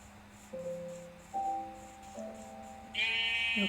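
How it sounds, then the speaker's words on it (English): Sheep bleat in a basement farm setting, several short nasal calls one after another at close range, rising to a brighter cry at the end, with no talk. "Okay, the sheep are over here."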